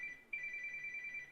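A telephone rings with a rapid electronic trill in bursts, fairly close and clear against a quiet background.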